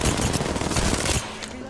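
Rapid automatic gunfire in a video game, loud, dense and continuous, then cutting off abruptly.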